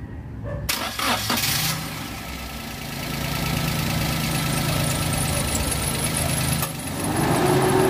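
Car engine idling steadily while warming up after an auxiliary fan replacement, a continuous low rumble with a brief starting clatter at the beginning and faint mechanical ticking throughout.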